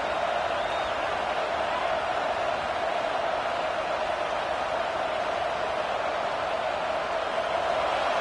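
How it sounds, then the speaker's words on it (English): Stadium crowd noise in an American football video game, a loud, steady, continuous roar of a large crowd swelling throughout with no breaks. "This crowd rising up, sensing that its defense needs some help."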